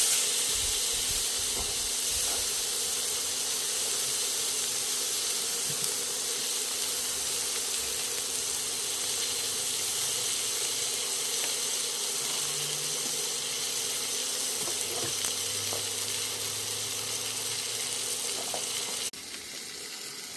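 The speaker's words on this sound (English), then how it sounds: "Hear that steak a-sizzling." A steak sizzles in a ripping-hot pan on an induction burner run from an Anker Solix S2000 power station, giving a steady, close, continuous hiss with no pauses and no talking.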